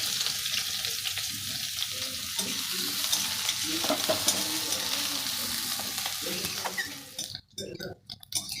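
Chopped onion sizzles and fries in mustard oil with dried red chilli and whole cumin in a kadai, a steady close hiss with stirring scrapes, which stops abruptly near the end.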